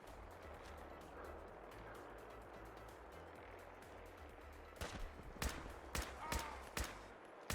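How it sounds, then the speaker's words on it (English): Gunfire in a video game arrives as a cluster of sharp, rapid cracks over the last few seconds. The shots are clustered and irregular and sit above a low, rumbling background that was quiet until then. "Did you just fire like blindly to test that?"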